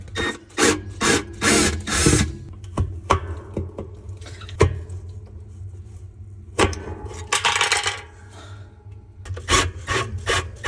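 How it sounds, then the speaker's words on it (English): A Whirlpool top-load washer hub has its screws undone by hand during a gear case replacement, giving close, irregular scraping, rubbing and clicking metal sounds in short bursts with scattered sharp knocks, no talking. "Now I should be able to undo these screws on this hub."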